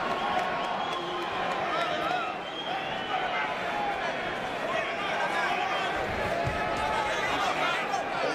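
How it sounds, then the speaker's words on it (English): A large, restless crowd at a professional boxing match keeps up a dense, continuous roar and murmur, with scattered shouts and whistles, while a commentator speaks over it. "the crowd getting more and more restless"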